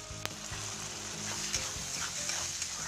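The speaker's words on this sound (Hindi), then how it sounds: "अब इसे अच्छी तरह मिला लेंगे" Khichdi with peas being stirred in a hot pan, a steady close sizzle with scraping spoon strokes and soft clatters throughout, no voices.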